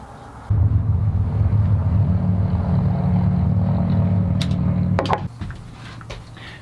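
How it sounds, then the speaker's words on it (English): A bandsaw cuts an abstract curved shape from a piece of figured wood, a steady low motor hum and blade drone running close and loud for several seconds before spinning down, followed by a few light clicks and knocks. "we'll cut it out on the bandsaw"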